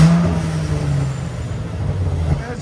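A Mercedes-AMG C63 twin-turbo 4.0-litre V8 revs close by with a deep, throaty roar that swells and settles, the low engine note holding steady before another rise near the end.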